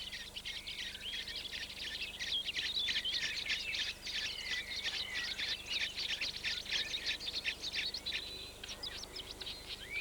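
Many small birds chirp and call continuously in a summer European woodland, a dense overlapping chorus of quick high tweets with faint insect buzzing beneath, steady and moderately near.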